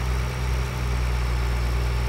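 A tractor engine idles in Farming Simulator 2013 with a steady, continuous low rumble and vibrating hum that holds at an even level throughout, and no voices are heard.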